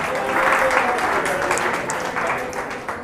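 Audience at a Shri Radha Ashtami festival applauding to offer birthday congratulations, a steady burst of many hands clapping together, fairly close and sustained, with a brief voice underneath.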